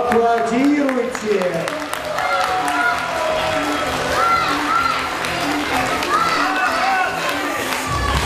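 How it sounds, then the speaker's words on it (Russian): An audience at a dance award ceremony applauds, a dense wash of clapping and crowd noise that fills the space steadily for several seconds, with voices mixed in. "Аплодируйте!"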